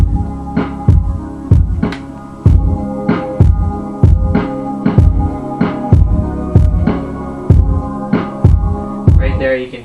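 A sample-based beat played on a Maschine, built from a sped-up church music LP sample: a heavy, booming kick-driven loop pulsing at a steady mid tempo with bright transient hits, loud and up close.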